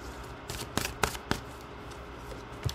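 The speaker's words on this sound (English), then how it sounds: "We're just going to pull 3 more cards." Tarot cards are shuffled and pulled, with a few quick soft riffling bursts and light card slaps spaced irregularly, close and quiet.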